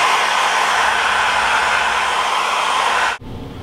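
A hair dryer blows loudly and steadily up close, drying paint on model railroad clapboard walls, then cuts off abruptly near the end, leaving quiet room tone.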